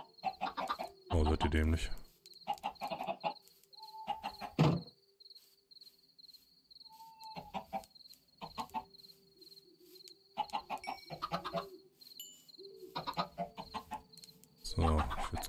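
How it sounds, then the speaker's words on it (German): Chickens clucking in the video game Minecraft, a string of short clucks and squawks scattered across the scene with faint insect chirping behind, alongside brief German speech. "Da ist noch ein Huhn."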